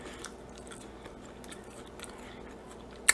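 French fries being chewed at a TGI Fridays meal, faint soft crunching and mouth sounds close up, quiet and steady, ending with a sharp louder crunch.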